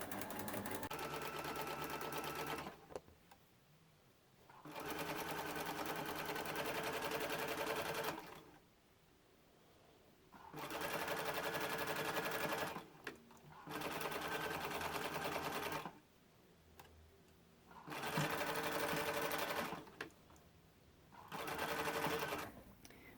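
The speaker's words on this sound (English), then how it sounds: "Remember, start sewing at the very top. Back stitch." A sewing machine stitches binding onto fabric in several steady bursts of a few seconds each, separated by short pauses, close and fairly loud.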